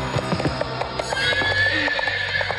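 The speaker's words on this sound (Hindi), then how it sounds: "इस जंगली घोड़े को कभी तुम भी काबू नहीं कर पाए" A wild horse in a Hindi romantic film scene neighs loudly and close, its whinny rising over a steady clip-clop of hooves.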